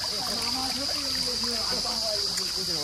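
Natural spring water runs steadily at Lauke waterfall, a continuous close rushing and trickling wash with a bright hiss, heard alone at even loudness throughout.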